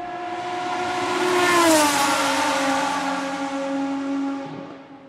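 An Energica EGO electric motorcycle pulls away, its motor whine rising and bending in pitch as it accelerates, loud and close at first, then holding a steady high tone as it moves off, with no talk over it.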